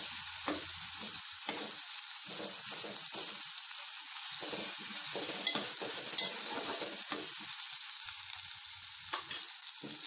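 Ginger garlic paste fries in a pan for a village-style bitter gourd masala curry, a soft steady sizzle broken by scraping stir strokes, fairly quiet and close.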